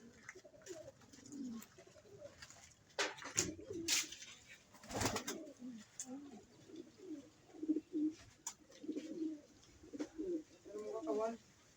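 Pigeons in a loft after a typhoon coo in soft repeated low bursts, with clicks and faint wing flutter nearby and a voice speaking now and then.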